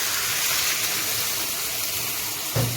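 Water pours steadily into a pot of freekeh stuffing, a continuous close splashing gush that ends with a brief heavier slosh.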